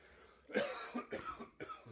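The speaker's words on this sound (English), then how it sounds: "I'm going to cough, excuse me." Three quick, close coughs in a row, fairly soft and dry, with brief pauses between them.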